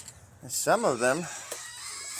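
A chicken on a homestead gives a short series of loud, warbling vocal calls up close, followed by quieter background noise.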